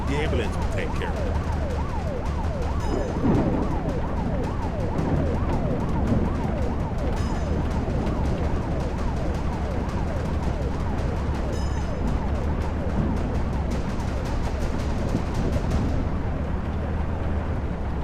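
Emergency sirens wail continuously in overlapping rising and falling sweeps over a constant low rumble in the video game Truck Driver: The American Dream, loud and steady, with occasional voices mixed in.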